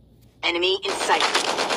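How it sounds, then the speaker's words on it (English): Rapid gunfire trades back and forth between two players in a video game round, loud bursts of shots layered densely over one another, with no talk. "Both of them taking shots at each other, and BAdnOmAd finally leaves the head glitch"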